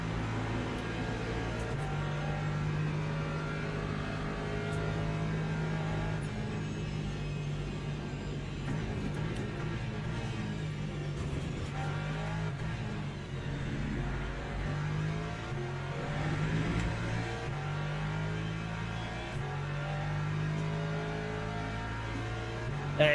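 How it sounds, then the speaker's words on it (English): A hypercar in the Le Mans Ultimate racing game drones steadily throughout, a continuous engine note with shifting pitch as other racing cars run alongside, with no clear single pass standing out from the steady mix. "here comes the hypercar"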